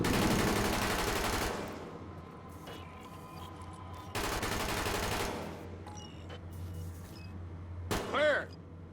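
Gunfire erupts in the video game The Division as dense bursts of rapid shots, loud and close, in two long volleys separated by a quieter pause, with a shouted voice briefly near the end.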